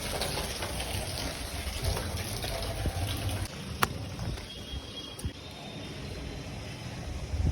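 Light rain falls steadily, a constant close wash of patter and trickling water with no talking over it.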